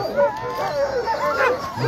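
Sled dog team from the Anchorage Eagle River area at the Copper Basin 300 race in Alaska, a chorus of excited yips, howls and whines close by, overlapping continuously as a person talks.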